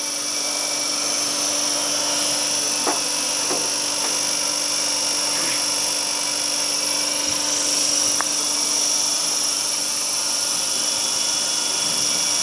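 A three-phase induction motor on an Anshuman XPO-VVVF variable frequency drive trainer runs with a steady, high electrical whine and hum, constant and close, with a few faint clicks.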